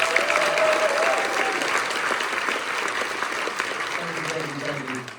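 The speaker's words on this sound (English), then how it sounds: "So give him another round of applause." Audience applause at a Warner Bros lot event, a steady dense wash of clapping from a crowd filling the clip, with faint voices underneath toward the end.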